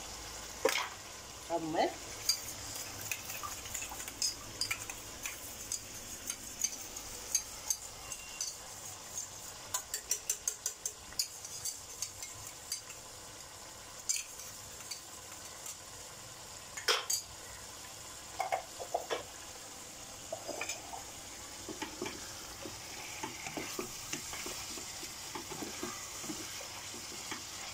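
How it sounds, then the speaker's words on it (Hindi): Hariyali chicken roasting over a full gas flame in a pan, a steady background sizzle broken by frequent scraping and clinking stirs of a utensil against the metal, with a brief spoken phrase near the start. "इसे मैं फुल फ्लेम पे अभी भूनूंगी दो मिनट।"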